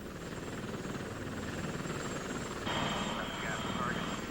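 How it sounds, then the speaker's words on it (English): Apache helicopter gunships armed with Hellfire missiles fly toward Iraq on a moonless night, a steady rotor and engine drone heard throughout under a narrator's voice. "8 Apaches armed with Hellfire missiles took off towards Iraq."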